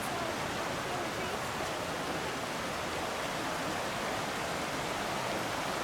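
Stream water rushing steadily along the rocky Zapata Falls trail, a dense, continuous broadband roar close by with no pauses.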